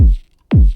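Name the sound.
heavily processed FL Studio dance kick sample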